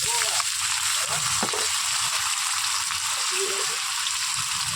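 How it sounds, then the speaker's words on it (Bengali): Chopped onion and potato sizzle steadily in hot oil in a pan for chowmein, a constant close crackling hiss with occasional stirring scrapes. "আলু পেঁয়াজ দুটো একসাথে ভেজে নেব"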